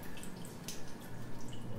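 Water dripping in a quiet, just-used shower inside the underwater facility of the SOMA horror game, soft scattered drips over a low ambient hum.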